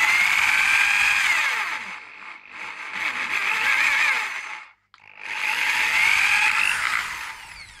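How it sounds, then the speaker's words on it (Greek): A power drill with an aluminium-type bit bores a single hole through plastic, a steady high whine running loud for several seconds, dipping briefly, cutting out near the end, then spinning up again. "Προτιμάω είτε μύτη για το τρυπάνι για ξύλο είτε για αλουμίνιο."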